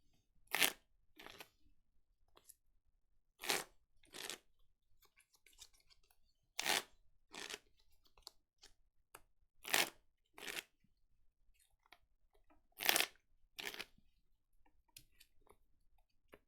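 A Pokémon trading card deck being shuffled, in short crisp riffling bursts separated by pauses, fairly close and quiet with no talk.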